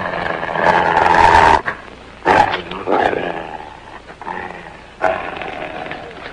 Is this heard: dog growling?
yes